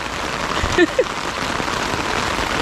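Heavy rain pouring down outdoors, a steady, dense hiss that fills the whole stretch, with a couple of brief voice sounds briefly over it.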